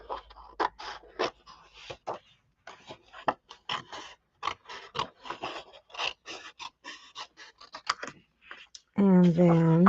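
Scissors cut out paper pear shapes for a card in a run of close, crisp snips and scrapes in an irregular rhythm, with a person talking over them.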